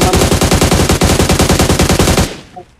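Machine gun fire in the mobile game BGMI comes as a rapid, loud, sustained burst of evenly spaced shots for over two seconds, then cuts off and the sound fades away.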